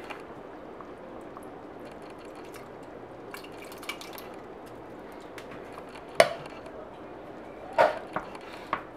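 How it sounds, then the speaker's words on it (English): A spoon scrapes and knocks against a pot of homemade chili with tomato paste and roasted garlic, soft wet stirring with a few sharp metallic clinks near the end, close and fairly quiet. "Give that a good stir."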